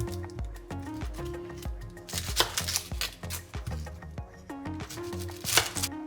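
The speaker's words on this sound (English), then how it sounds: "And I'm just cutting them really small." A knife chops a purple onion into small pieces for a salad with quick, close taps that come in bursts under steady background music.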